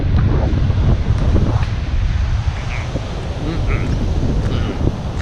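Strong coastal wind on open water off Tasmania's north coast roars steadily and loudly across the microphone, with a dense rumble and gusty buffeting throughout and no clear breaks.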